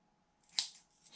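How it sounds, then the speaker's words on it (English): Kitchen scissors make a single crisp snip while cutting the gills off a razor clam, close and quiet, followed by a faint second rustle of the blades. "Cut the gills and everything off."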